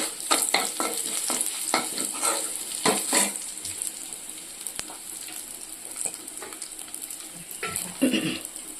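A dried red chilli frying in hot oil, with a bright crackling sizzle and a flurry of sharp spatters and stirring scrapes early on that settle into a quieter, steady hiss before a final burst.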